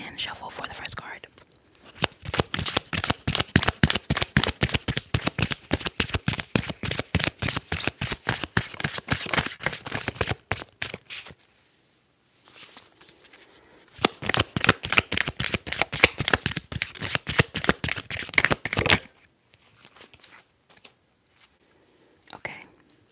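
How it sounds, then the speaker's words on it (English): Tarot cards being shuffled in rapid riffling bursts, two long runs of quick snapping flicks separated by pauses, close up. "let's go ahead and shuffle for the first card"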